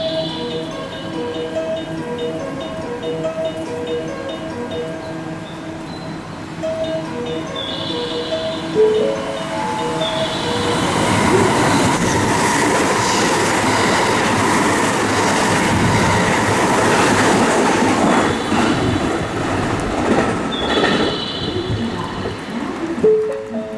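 A JR West train on the Kyoto Line runs through platform 3 at Suita Station without stopping, a rising roar of wheels and rail clatter that builds from about ten seconds and stays loud and near, over earlier station chimes and tones.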